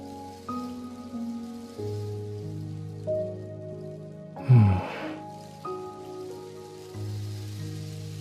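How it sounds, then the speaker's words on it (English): A rain stick made of dried cactus filled with pebbles and cactus spines gives one brief, rushing rattle like falling rain, set among soft, steady background music tones. "It's called a rain stick. It's an instrument made from dried cactus and sounds very natural."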